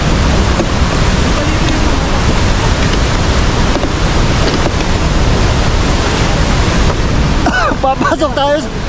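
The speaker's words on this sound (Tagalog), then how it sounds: "Ayan yung falls, oh. Grabe yung falls." Pagsanjan Falls in the Philippines roars as a loud, unbroken wash of rushing water with wind buffeting the microphone, and a brief voice rises over it near the end.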